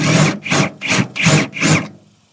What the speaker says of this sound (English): you just want to drill until the top of that rivet pops off